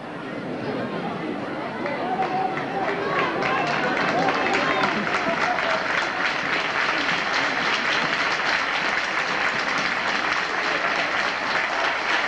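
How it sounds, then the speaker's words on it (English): Rugby league crowd applauding as a player leaves the field during a Penrith versus Newtown match, a dense sustained wave of clapping and cheering that swells and holds, with crowd chatter underneath. "The crowd applaud Broman from the field."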